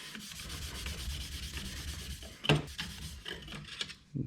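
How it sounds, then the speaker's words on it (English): Stainless body trim from a 1951 Chevy hand sanded with 320 grit paper, a close, steady scratchy rubbing with rhythmic strokes and a sharper knock midway, no voices. "I'm only using the 320 on the worst bits, and then I'll come in with a red scotch"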